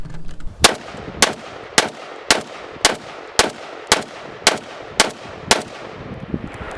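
A Century Arms BFT-47 AK-47 rifle fires at an outdoor range, about ten loud, sharp single shots spaced at a fairly steady rhythm of roughly one every half second, with no talk.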